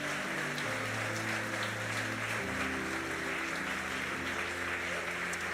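A church congregation claps together in a sustained wash of applause that fills the room, with musical keyboard chords holding underneath.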